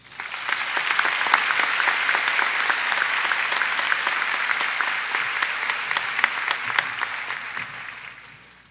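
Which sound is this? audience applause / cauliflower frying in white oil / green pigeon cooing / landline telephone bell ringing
audience applause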